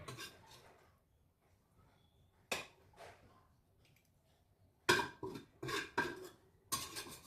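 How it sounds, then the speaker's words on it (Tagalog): Metal pots and pans clatter and clank in short bursts, with a quieter stretch in the middle and several sharp, loud knocks toward the end. "Makukulog ng kaldero ay kawali."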